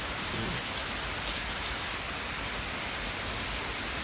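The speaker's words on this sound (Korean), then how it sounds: "비가 많이 옵니다" Heavy rain pours steadily, a dense even hiss of drops hitting surfaces that fills the whole stretch without pause and with no voices.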